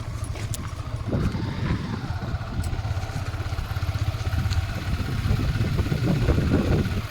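A car engine runs steadily while driving for the whole stretch, a close, rumbling drone with a rattling edge that swells slightly near the end.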